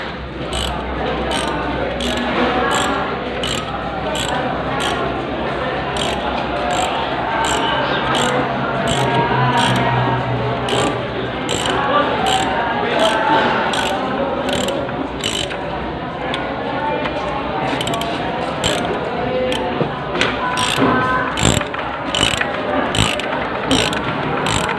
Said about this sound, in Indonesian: Dan lalu pakai kunci shock ukuran 14. Kita kencangkan semaksimal mungkin.